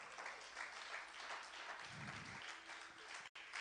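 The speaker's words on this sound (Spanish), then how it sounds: "Dele un aplauso al Señor." A congregation claps steadily, a dense wash of applause with a brief low murmur midway and a sudden cut near the end.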